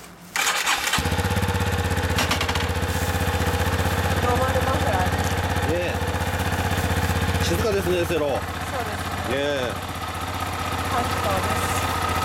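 A 2016 Yamaha Serow 250 motorcycle engine cranks and catches, then settles into a steady, loud idle with a low rumble; a few voices speak briefly over it.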